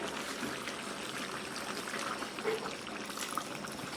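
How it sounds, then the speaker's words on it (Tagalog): Thick first-press coconut cream poured into a cooking pot, a continuous close liquid stream with a soft gurgling splash that carries on steadily throughout. "Kakang gata, unang piga. Lagyan na natin."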